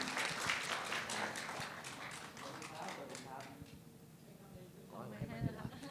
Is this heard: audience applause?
yes